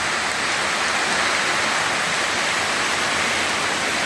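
Heavy rain pours down in a loud, unbroken roar, a steady wash of hiss with no gaps and no voices over it.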